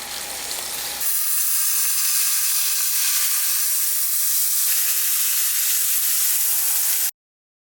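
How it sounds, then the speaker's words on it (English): A large seasoned prime rib sears in a hot pan, a loud, steady, close sizzle that runs unbroken for about seven seconds before stopping abruptly. "we got the sear done"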